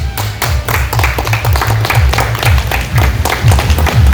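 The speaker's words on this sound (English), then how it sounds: "Round of applause, please." Dense applause from a crowd at an Independence Day celebration, steady and loud throughout, with no talking over it.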